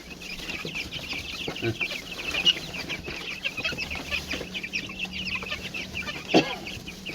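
A flock of chickens clucks and murmurs continuously nearby, with overlapping soft calls and one louder squawk near the end.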